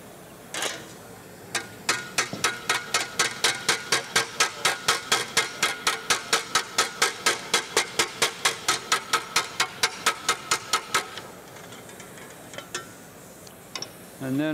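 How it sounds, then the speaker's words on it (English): A hammer tapping down a small clamp dent in sheet metal, giving a fast, even series of around forty sharp metallic taps close by, then stopping, with faint room noise after. "Now I'm gonna flatten a little a dent that the clamp put in. I'm gonna tap it down where the clamp was."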